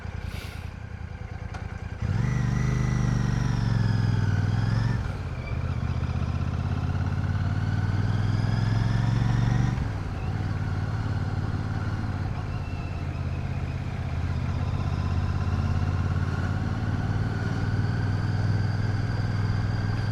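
A Royal Enfield Classic 650 motorcycle rides in third gear through a 20 zone with speed humps, its engine a steady, loud, close drone that shifts pitch a few times as the throttle changes, with no talk over it.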